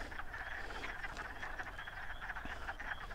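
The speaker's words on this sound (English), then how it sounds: "they were calling for sure, just like the ones you can hear in the background here" Male wood frogs call steadily from a vernal pool in spring, a dense chorus of short clucking croaks overlapping continuously at moderate distance with no voices.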